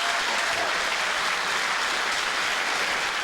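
A comedy gala audience applauds steadily, a dense, loud wash of clapping from a large crowd that holds evenly for the whole stretch with no voices on top.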